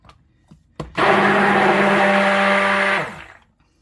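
A stick blender stirring essential oils into tallow soap batter: a few light knocks, then a loud, steady whirring hum for about two seconds before it winds down and stops, with no talk.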